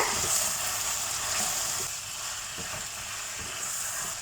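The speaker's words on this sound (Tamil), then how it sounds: "நம்ம எடுத்து வச்சுருக்கிற முந்திரி பருப்பையும் இதில் சேர்த்துட்டு நல்லா வதக்கி விட்டுருங்க." Cashews sauté in a pan for paneer butter masala, producing a steady close sizzle and hiss with faint stirring scrapes, fairly quiet and without voices.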